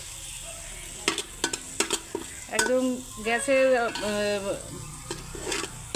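Ginger, garlic and radhuni paste sizzles in a pan over a low gas flame while a spoon scrapes and stirs it in sharp taps, with a person speaking over the frying.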